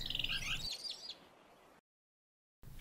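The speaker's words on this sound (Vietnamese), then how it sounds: "Con chim xanh." A blue bird in a cartoon fairy tale chirps in a quick burst of bright, high tweets at the start, then fades into quiet hiss before a short silence.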